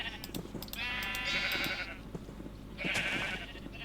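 Sheep in the video game Minecraft bleat twice, each a wavering, nasal call standing out over a low background hum, with a pause between them.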